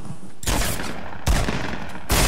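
Three bursts of rapid gunfire from a Fortnite match, each loud and dense, separated by short pauses with no talking.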